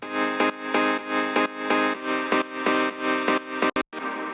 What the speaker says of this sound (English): the first layer is in the guitar plucked section of the Korg M1. It's called Flat Top